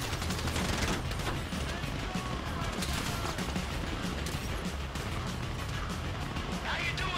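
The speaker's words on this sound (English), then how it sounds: "You hear that gunfire?" Rapid gunfire in the video game Grand Theft Auto V during a heist mission, dense bursts of shots and crashes that run continuously and loudly under game dialogue.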